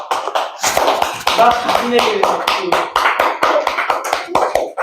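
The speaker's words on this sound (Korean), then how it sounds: "박수!" Quick hand claps and taps from a maths classroom crowd, a burst of brisk irregular claps ringing out over ongoing speech, loud and close.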